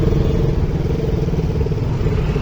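A motorcycle engine drones close by in a traffic jam, a continuous rough mid-pitched rumble without pauses.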